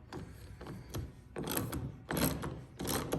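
Bolts being loosened and removed from a trolling motor with a ratcheting tool, giving a series of close, bursty mechanical ratchet clicks in short spurts with brief pauses between them.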